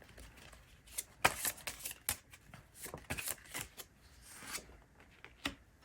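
Tarot cards are shuffled and drawn on a table in a series of crisp, close riffles and slaps, some louder and some softer, with short pauses between them.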